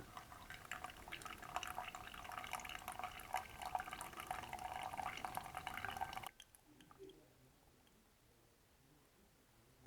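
Hot water is poured over ground coffee in a pour-over brewer, a steady faint trickle and splash that stops abruptly after about six seconds, leaving quiet dripping.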